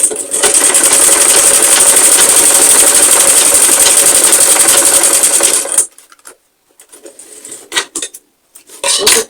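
A sewing machine stitches a turban cap in one loud, steady whirring run for almost six seconds, then stops, followed by a few short clicks and brief bursts of handling.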